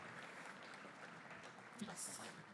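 Audience applause at a university information day at a Faculty of Economics: a steady wash of clapping from a crowd that stays even throughout and swells slightly near the end.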